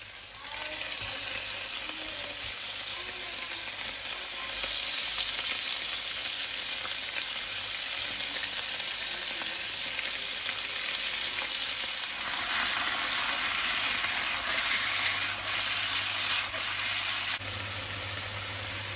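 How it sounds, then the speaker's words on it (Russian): Carrots and chicken fry in sunflower oil in a pan, a continuous loud sizzle and crackle, close up, holding steady throughout with a few brief stirring shifts. "Добавляем морковь и обжариваем."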